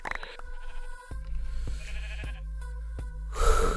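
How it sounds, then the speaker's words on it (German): Several sheep bleat in quick succession in Minecraft over a low steady hum, with a louder, brighter burst at the end. "Alter, diese Schafe!"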